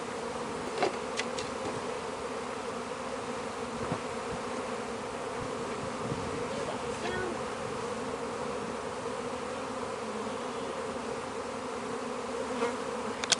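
A dense, steady hum of many honey bees buzzing around hive frames as they are shaken onto a ramp during a Taranov split, with occasional louder individual bees flying close by.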